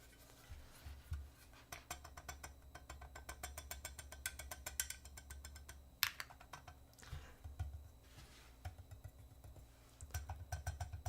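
Rattling and clicking from the parts of a TB-65F keyboard being built, a steady run of close, busy, typing-like clatter with a few sharper clacks and no voices.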